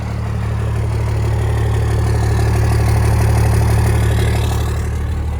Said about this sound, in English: This is a proper diesel in my world.